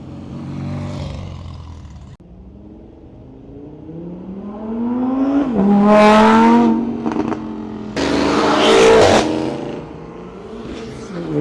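Cars at a Cars & Coffee meet in Palm Beach accelerate hard past the listener, engines rising in pitch through revs with loud nearby bursts and fading roars, one vehicle after another.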